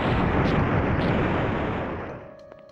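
A grenade explosion in the PlayStation video game OverBlood 2, a loud roaring blast that fades out over about two seconds, with a few faint beeps at the end.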